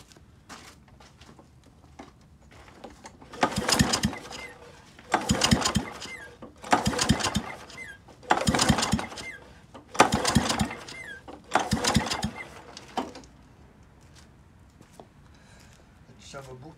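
A Kawasaki FC150V small engine, mounted upside down and suffering low compression, is cranked over in six short bursts of rapid chugging, each lasting about a second with brief pauses between them.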